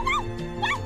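A voice actor imitates a dog in an anime, giving two short, close yelping barks with a whimpering rise and fall, separated by a brief pause.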